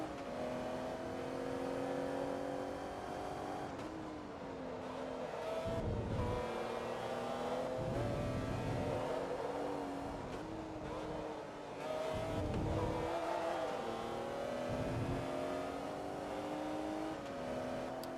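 A McLaren race car in Forza Motorsport 2 accelerates hard, its engine climbing through the gears with repeated rising whines and brief dips at each shift, loud and close throughout.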